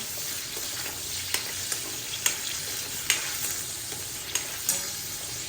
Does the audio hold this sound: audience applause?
no